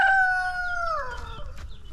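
A rooster crows once near and loud, the call rising, holding steady and then sliding down into a rough trailing end, with no other voices.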